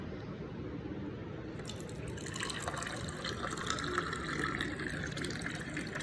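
Tap water running and filling a pan on a home kitchen stove for cooking dry ramen, a steady close gushing stream that rises in pitch and brightens as the pan fills.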